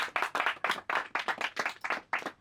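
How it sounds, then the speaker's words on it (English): A small group claps in a recording studio, crisp and close, with uneven bursts of hands overlapping for a couple of seconds. "Oh yeah, round of applause."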